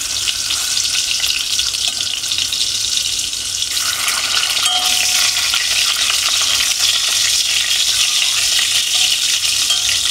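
Boiled ridge gourd lightly frying in a pan, a steady bright sizzle with crackle and faint stirring throughout, close and alone with no voices.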